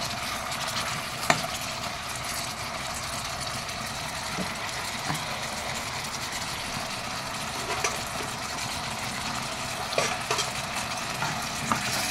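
Chicken hamonado being stirred in a home-cooking pan, a steady low sizzle and bubbling throughout with occasional soft scrapes and clinks of a utensil against the pan.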